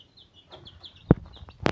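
Chicks in a poultry coop cheeping in a quick run of high, thin chirps, close and fairly soft, broken by a couple of sharp knocks and thumps.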